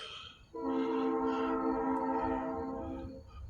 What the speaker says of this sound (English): The train started coming.